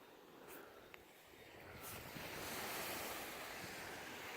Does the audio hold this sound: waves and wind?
yes